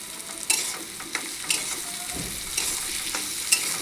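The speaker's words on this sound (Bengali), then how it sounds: "এখন সব পেঁয়াজগুলো দিয়ে দেবো।" Onions and chopped vegetables for rajma chawal sizzle steadily in a pan, close up, with a spatula scraping and clinking against the pan every half second or so.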